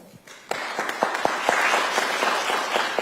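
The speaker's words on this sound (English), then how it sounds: "Let's give them another round of applause." Audience at a forum applauds the panelists, a short burst of clapping that starts suddenly and holds steady, moderately loud and fairly near.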